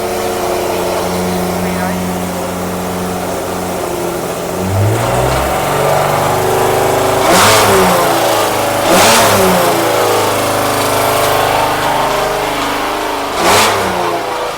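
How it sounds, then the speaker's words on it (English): Original Jaguar XJ13 prototype V12 four-cam engine runs in a test cell after 18 years idle, a loud steady drone with several sharp revs that rise and fall; a voice speaks briefly over it. "It's a V12 4-cam, so let's go and see what it sounds like."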